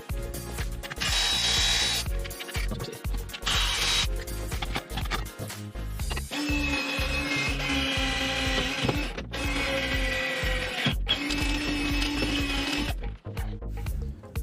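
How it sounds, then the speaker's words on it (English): A power drill bores a hole through a car bracket mount while a John Cooper Works is rebuilt in a workshop. The loud, sustained whirring comes in several bursts with short pauses and clanks between them, and no one speaks. "We're going to drill a hole so we can mount this bracket and get the cooler on."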